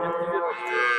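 A Simmental cow lets out a single loud, close moo at a cattle bazaar in Shahrixon, the low droning call filling the whole brief moment.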